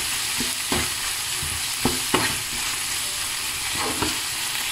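Prawns and onion leaves are stirred in a salted frying pan, a continuous close sizzle punctuated by a handful of sharp spatula scrapes and knocks at irregular intervals.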